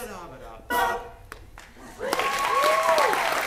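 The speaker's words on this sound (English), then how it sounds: "We're adding thunderous applause here." Thunderous applause sound effect dropped into a reaction to fans singing songs: a voice speaks first, then a dense wash of clapping swells and holds steady and loud to the end, with a bright tonal sweep riding over it.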